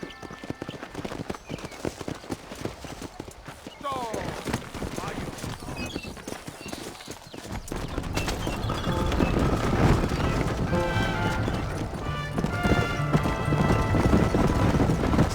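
Rhythmic clip-clop of galloping horse hooves in the video game Red Dead Redemption, first alone and then under louder music and crowd noise, with a voice speaking partway through.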